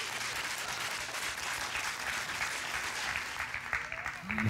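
Church congregation applauding during a Sunday morning service, a steady dense wash of clapping hands that holds for the whole stretch with no letup.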